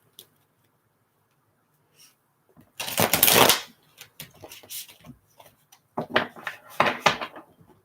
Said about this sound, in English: I've got 3 decks here that I'm shuffling